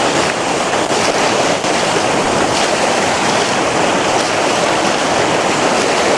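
Fast-flowing Kauaeranga River water in New Zealand rushes loudly and continuously, a dense broadband roar with no voices and some wind buffeting the microphone.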